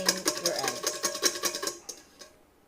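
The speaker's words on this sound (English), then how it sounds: "we're going to beat this egg till it's not stringy and it's foamy" A whisk beating an egg in a bowl until foamy, a fast even run of close, light clicking strokes that slows and trails off near the end.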